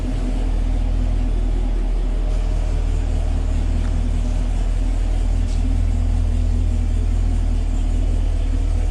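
A Chevrolet Camaro LT1 V8 with a popcorn burble exhaust tune, heard while driving: a loud, continuous low engine rumble with a deep drone, steady throughout, with faint crackles over the top.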